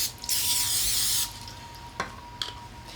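Aerosol cooking spray is applied to a baking pan for Italian cookies: one steady, close hiss lasting about a second, followed by a couple of small clicks and taps.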